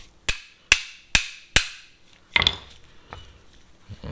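Four sharp, evenly spaced metallic taps from a socket driving a new seal into a Saginaw steering box on a Jeep XJ, followed by a duller clunk and a few faint scrapes, loud and close with no talking.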